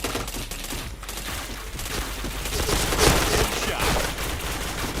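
Rapid bursts of gunfire in a shooting video game crackle in dense, overlapping volleys that swell louder midway, giving a busy fusillade texture throughout.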